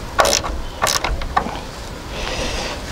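A bolt is tightened until its washer sinks into the metal, giving a few sharp ratcheting clicks and creaks in quick bursts, close and fairly loud, then a softer rustling scrape.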